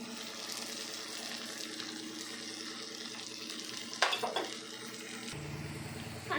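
Prawns and amaranth greens cook in a pan, giving a steady close sizzle and bubbling throughout, with a brief clatter near the end as a lid or utensil knocks against the pan.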